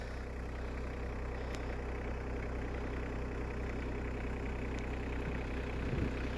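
A tractor engine idles steadily while warming up on a snowy Alaska farm before plowing, a continuous low rumble at even loudness throughout with no talking.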